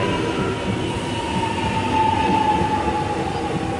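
A Melbourne suburban train rolls past at Watsonia station, a loud, steady rumble of wheels and motors with a faint high whine running through it.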